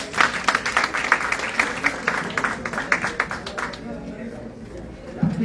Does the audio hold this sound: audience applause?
yes